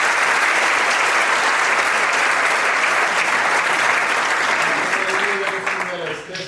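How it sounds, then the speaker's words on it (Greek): Sustained applause from a theatre audience at a stage play, loud and dense clapping filling the space, tapering off slightly near the end. "ένα χειροκρότημα."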